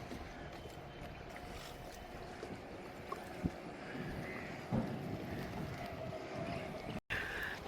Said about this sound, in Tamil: ஒரு போட் ஒன்று கரைய வருது, ஒரு வள்ளம் வந்து ஒரு கரைய வருது.